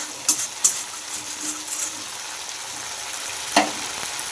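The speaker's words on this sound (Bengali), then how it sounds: "দেখো মশলাটা প্রায় মনে হচ্ছে কষে গেছে কারণ তেল ছেড়ে দিয়েছে" Spiced tomato masala frying in oil for a vegetarian cauliflower dish gives a steady, fairly quiet sizzle, broken by a few sharp stirring clinks near the start and again toward the end.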